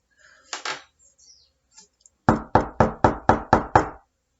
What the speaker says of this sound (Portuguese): O lobo então foi bater na porta da casa do segundo porquinho.